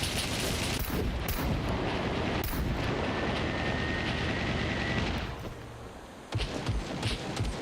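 Dense, loud gunfire in the SCUM video game, with continuous rapid bursts and heavy impacts filling the scene, easing briefly before another burst of shots resumes.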